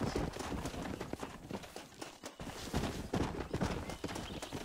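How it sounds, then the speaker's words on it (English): Several horses trot together in Red Dead Redemption while being herded back to a ranch, a dense, fairly loud clatter of overlapping hoofbeats with a brief lull midway. "Plenty of horses."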